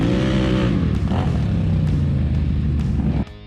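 An ATV engine roars loud and close during a first ride, with a steady, harmonic drone and slight pitch shifts that drop away abruptly at the end.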